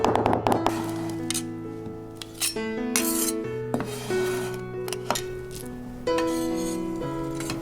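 Kitchen knife chopping scallions mixed with crushed Sichuan peppercorns on a board, a run of close, fairly steady taps and scrapes with bright clinks, heard over a backdrop of music.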